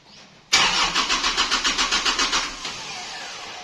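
A Kubota L-series tractor engine cranks without catching, a loud starter burst with a steady rhythmic chug of about a dozen compression pulses over two seconds, then cutting out to quiet.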